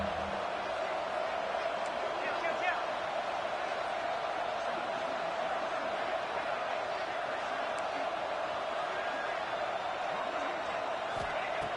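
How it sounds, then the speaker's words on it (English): A stadium crowd roaring on third down in the NCAA 26 college football video game, a steady continuous wall of cheering under a play-by-play commentator's voice. "Third down, and the crowd really getting into it"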